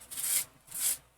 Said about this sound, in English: I'm going to use my Dollar Tree sanding sponge, and I'm just going to go straight down that edge